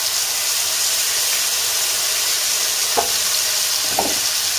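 Hot oil sizzles steadily in a heated pan ready for rice pilaf with chicken and chickpeas, a continuous loud hiss with two brief soft knocks near the end.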